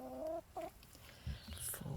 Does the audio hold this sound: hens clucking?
yes